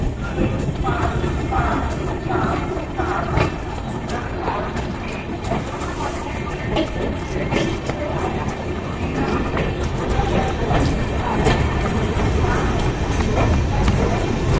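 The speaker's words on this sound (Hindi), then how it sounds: "रक्सौल से 5 मिनट की होल्ट के बाद हमारा रक्सौल से डिपार्चर होता है।" Amrit Bharat Express pulling out of Raxaul station after a short halt, a steady close rumble of the moving train with faint rattling and clatter running throughout, broadband and continuous with little change in level.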